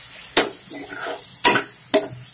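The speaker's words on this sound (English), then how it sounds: "Now I will add the leaves, the cooked leaves. Let me mix it nicely." Cooked green sorrel leaf sabzi being stirred in a pan, a spatula scraping and knocking the pan in a few sharp strokes about a second apart, with a light sizzle between them.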